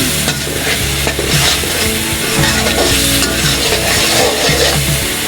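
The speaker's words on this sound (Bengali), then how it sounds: "মশলাটা কষানো হয়ে গিয়েছে" Spice masala for rohu fish sautéing and being stirred in a pan, with steady loud sizzling and repeated scraping strokes of a spatula throughout, with no voices.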